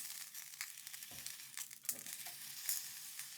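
Enoki mushrooms with paprika and garlic sizzle quietly in a pan as they are turned over, giving light crackling and crinkly scraping bursts against a faint hiss, with no talking.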